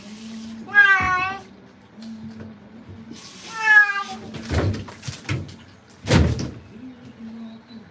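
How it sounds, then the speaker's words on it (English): A cat yowls and meows loudly during a bath at a grooming salon, two long drawn-out cries between running water, thumps and clatter, with people talking nearby. "apparently this cat's never had a bath in his fucking life"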